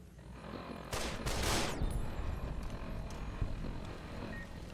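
A turret in the video game Fallout: New Vegas fires one short, loud burst of gunfire in the first couple of seconds, then it fades into a low, steady background rumble.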